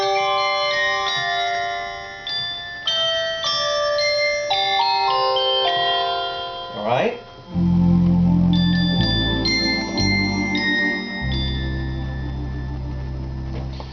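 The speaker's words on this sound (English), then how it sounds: "I happen to like the handbell sound." A Lowrey EY400 electronic organ plays a melody in a bright, chiming handbell tone, with sustained ringing notes and a deeper bass line joining partway through; a voice briefly speaks.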